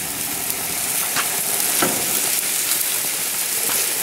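Oaxaca cheese sizzles on a hot griddle as it melts, a steady close hiss holding through the whole stretch with a few brief crackling flare-ups and no voices.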